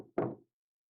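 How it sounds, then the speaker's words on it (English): A single short, close knock at a door in the video game Chaos;Child: one dull rap that dies away quickly, followed by silence. "And then she heard a knock at the door."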